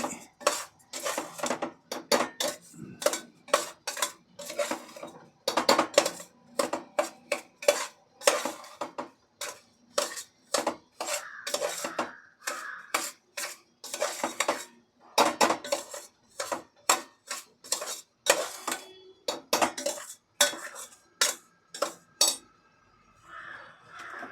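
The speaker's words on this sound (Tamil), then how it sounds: "இப்போ அந்த நெய்யோடு ரவாவை நல்லா மிக்ஸ் பண்ணி" Rava stirred into ghee in a metal pan for kesari, a spoon scraping and clanking against the pan in quick, repeated strokes, close and loud, with short pauses between bursts.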